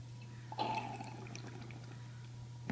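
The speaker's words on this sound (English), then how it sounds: "take your water and add 68 until you get to 80" Water poured into a container while making up a titration solution: a short, splashing gush that starts abruptly, then quickly tapers into a faint trickle against a low steady hum.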